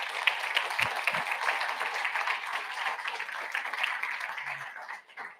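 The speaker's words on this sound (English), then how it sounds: "Let's give a round of applause for both of them." An audience applauds two speakers at the close of a panel talk, a steady, moderately distant wash of clapping that fades out at the end.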